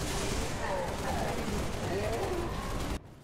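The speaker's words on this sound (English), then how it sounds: "Switch weapons, and we're gonna fire at these bricks." Weapon fire at bricks in the Halo Reach video game, a dense rapid burst of gunshots and impacts that cuts off abruptly near the end, loud and close with talk mixed in.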